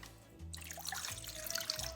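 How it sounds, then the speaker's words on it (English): Warm water pours into a mixing bowl with a short liquid splash and bubbling trickle, close and quiet, after a brief silence. "First, we're going to do 1 cup of warm water"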